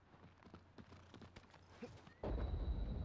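In the video game Shadow of the Colossus, hooves clop in a quick irregular rhythm, then a horse crashes with a sudden loud rumbling that keeps roaring to the end.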